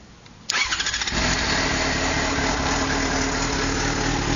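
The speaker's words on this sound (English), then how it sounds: "It's got the same engine out of the old R6. So I'll let you listen to it" A 2005 Yamaha FZ6 motorcycle, fitted with the engine from an older R6, cranks briefly and fires up close by, then settles into a loud, steady idle with no talking.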